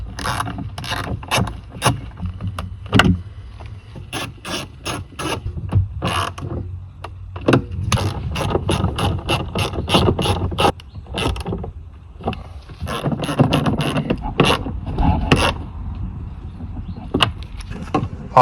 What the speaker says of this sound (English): Now we can screw in our 4 10mm bolts